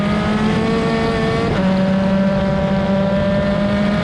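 Road to Indy open-wheel race car at speed on a road course, its engine a loud, steady high-pitched drone with a pitch shift partway through as it changes gear, other cars audible around it.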